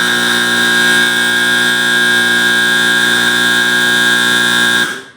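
A loud, harsh electronic buzzer from a homemade basketball buzzer with a five-second timer blares steadily for about five seconds, then cuts off abruptly.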